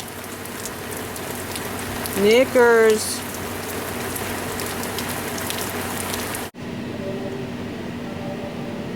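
Steady rain falls outdoors on a horse pasture in July, an even hiss throughout, broken once by a brief horse whinny, then cut off abruptly to quieter rain near the end.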